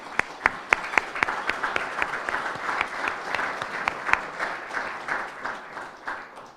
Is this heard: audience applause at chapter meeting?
yes